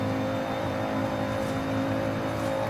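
A 600 hp Volvo C30 Polestar engine in Forza Horizon 5 drones and revs with a steady, high whine, continuous and loud, with no talking.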